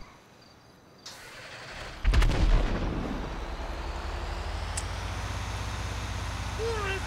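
A large explosion in GTA 5 bursts suddenly and loudly, then rolls into a long rumbling roar that slowly fades beneath a steady hum, with a faint whistle near the end.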